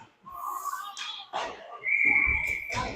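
A referee blows a sharp offsides whistle at a 12U youth ice hockey game in Eagle, a piercing tone partway through amid rink noise, short shouts and a few thuds and scrapes.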